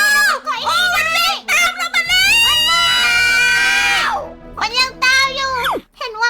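A Minecraft zombie shouts in a video game, a loud, wavering, strained cry rising and falling over several seconds amid other harmonic voice-like game sounds, with brief breaks between bursts.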